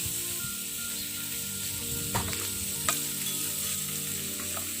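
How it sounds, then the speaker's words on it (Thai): Blanched spinach stir-fried in a hot pan for a light carbonara-style pasta, a steady close sizzle running throughout with a few sharp scrapes of the utensil against the pan. "ใส่ผักโขมนะคะที่เรา ลวกไว้ ผัดต่อเลยค่ะ"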